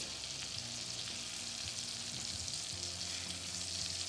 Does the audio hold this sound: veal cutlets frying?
yes